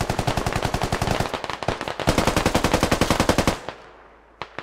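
Rapid automatic gunfire from the tactical shooter Squad: a long, loud, evenly spaced burst of shots, a brief break, then another sustained burst that cuts off, followed by a couple of isolated distant shots.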